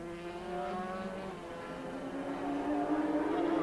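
Jim Moody's Suzuki racing motorcycle at the Bishop's Court circuit gives a sustained high engine whine that rises slowly in pitch, heard at a steady moderate distance with a faint voice underneath.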